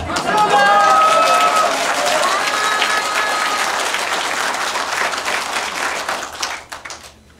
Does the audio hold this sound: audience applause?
yes